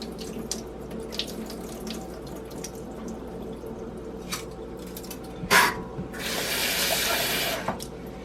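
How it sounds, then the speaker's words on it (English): Rice being washed under a running kitchen tap for a single portion of nikujaga, with a steady stream of water filling and splashing in a sink, swelling into a louder, broad rush near the end before easing off; no one speaks. "First I need to wash my rice. So, wash the rice."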